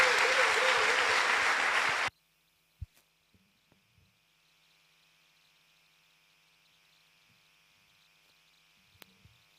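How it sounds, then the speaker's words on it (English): Applause from an audience at a Catholic medical and dental federation convention bursts loudly for about two seconds, then cuts off abruptly into near silence broken by a few faint knocks. "Please, another round of applause for Dr. Ajibola Sanda"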